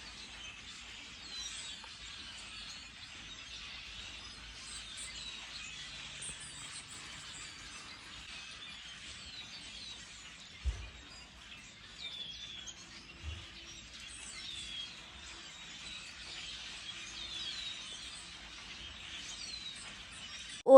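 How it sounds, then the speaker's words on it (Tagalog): Agitated black birds chirp and call around a snowy backyard bird feeder, a steady chatter of short tweets throughout, with a few soft thumps and a louder knock near the end. "Galit na galit yung ibon kasi tinataboy ko sila."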